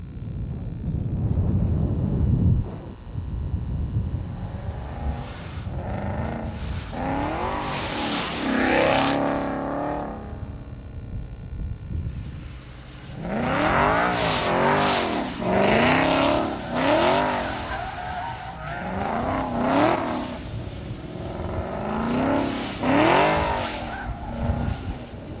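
A car from the Need for Speed film revs hard with squealing tires, the engine note rising and falling in several bursts, loud and close throughout, with a brief low rumble at the start.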